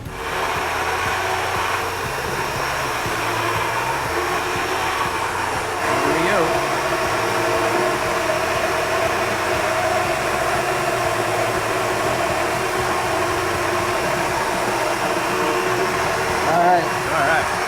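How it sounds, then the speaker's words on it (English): A blender whirs continuously to mix sauce in a small sauce-making kitchen, a steady, loud motor drone that holds throughout with little change in pitch. "Now I know you gotta blend it up a little bit, right?"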